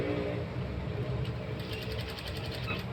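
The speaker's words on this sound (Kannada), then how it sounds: "ಫಸ್ಟು ಕಿನಾರಿ ಮೇಲೆ ಒಂದು ಸ್ಟಿಚ್ ಹಾಕೊಳ್ಳಿ" Sewing machine stitching along the border of a folded scrap of fabric for a blouse, a steady continuous mechanical whir with rapid ratcheting clicks, close and alone throughout.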